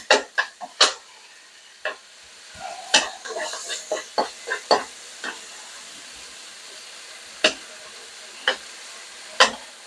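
Sliced pine mushrooms stir-fry in a pan, a faint hiss under a scattered run of crisp spatula taps and scrapes, some clustered, others spaced out over several seconds.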